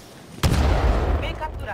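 A single grenade blasts in Titanfall 2 multiplayer, a sudden loud boom with a deep, rumbling tail that fades over the next second.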